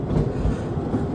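A train runs along a riverbank at Morwellham Quay, giving a close, steady low rumble of rolling wheels with faint rhythmic clatter over a brief stretch.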